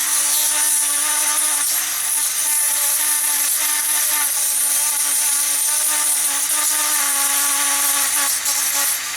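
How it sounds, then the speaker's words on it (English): A steady high-pitched power drill whine runs continuously at close range while enlarging a hole in an X-Wing model, a constant motor tone with slight wavering and no voices. "I'm just going to use the drill to try and make that a little bit more"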